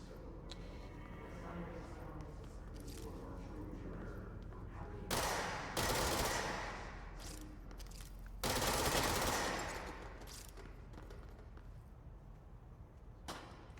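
Gunfire in the video game Control while shooting red screens: two loud bursts of rapid shots stand out over quieter background game sounds, with a voice talking at times.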